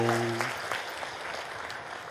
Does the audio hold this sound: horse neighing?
no